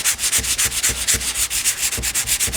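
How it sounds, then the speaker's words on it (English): Wood filler on kitchen cabinets is sanded by hand with 220 grit sandpaper, giving a close, loud, rhythmic back-and-forth scratching of about a dozen quick even strokes. "I go back and forth, just like 220 grit"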